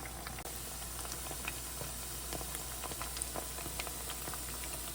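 Chicken bites fry in oil until lightly browned, giving a soft, steady sizzle with scattered small crackles, fairly quiet and without voices.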